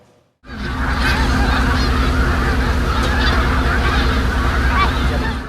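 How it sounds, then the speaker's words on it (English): Many geese honk loudly and continuously in a dense chorus, close by, after a brief moment of near silence at the start. "geese are waterfowl that are slightly larger than ducks and smaller than swans"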